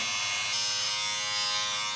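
A Philips Norelco 3500 QT4018/49 electric stubble shaver runs with a constant, close, high-pitched motor buzz that holds unbroken throughout.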